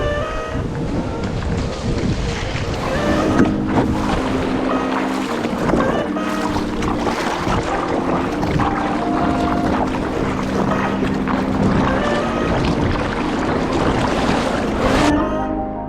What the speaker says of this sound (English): surf session with Signor Martini, and we're hitting Capitola today with some tiny waves